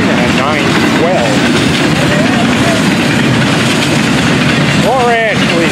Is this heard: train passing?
yes